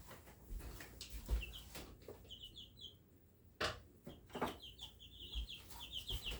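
Chickens cluck and chirp in short repeated bursts at moderate distance, amid clattering and kitchen-like bumps, with no talking.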